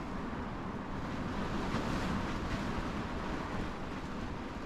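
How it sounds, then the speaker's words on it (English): Heavy rain pours down outdoors during a storm with high winds, a dense, steady broadband roar that holds loud and unbroken throughout, with no voices. "Holy cow, it's pouring out there."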